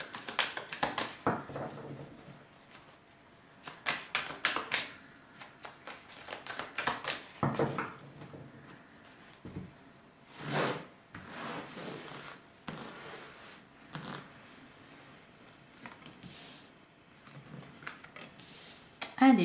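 Tarot cards shuffled and laid out in a series of quick papery riffles, taps and slides, close and fairly quiet, with brief pauses between bursts.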